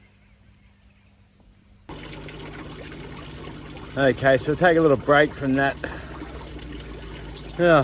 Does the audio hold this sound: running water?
yes